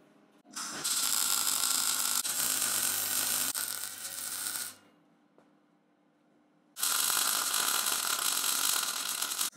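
Steel parts for a 20-litre jerrycan holder are tack welded, giving two sustained bursts of loud, close crackling buzz separated by a quiet pause, with no talk.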